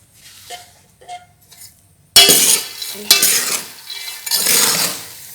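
Roasting peanuts being stirred in an oiled pan for Senegalese peanut paste, with quiet scraping at first, then louder rustling stirs and clinks of the utensil against the pan in bursts, close by with no talking.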